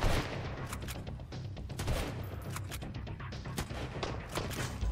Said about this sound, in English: this is the new bolt action rifle